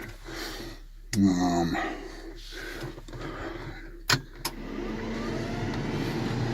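A heavy bulldozer diesel engine idles with a steady low rumble, broken by a few sharp clunks and knocks, and a brief vocal sound early on.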